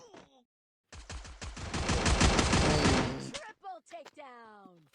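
Rapid automatic gunfire from a multiplayer shooter video game, a dense burst of about two and a half seconds, loud and close, with a voice briefly before it and talk right after.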